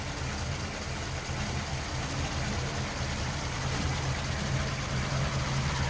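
A restored 1949 Ford Custom Convertible engine idles smoothly, a steady low rumble with broad hiss, faint and constant throughout with no voices.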